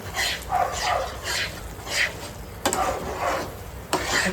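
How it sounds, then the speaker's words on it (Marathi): Food stirred and mixed in a cooking pan after oil has separated at the sides, producing soft repeated scraping sweeps and a light sizzle with a couple of sharper knocks, close by and without speech. "आता आपण हे टाकू. व्यवस्थित मिक्स करून घेऊ आपण."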